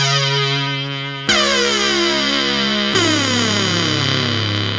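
A restored ARP Odyssey 2810 synthesizer plays buzzy, distorted sustained tones that slide between pitches with glide, with sharp note changes, loud and alone.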